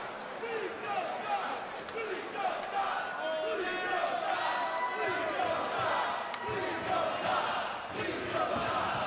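Large wrestling crowd buzzing and stirring around a ladder match, a continuous dense murmur with scattered shouts and occasional sharp thuds, commentators talking over it throughout.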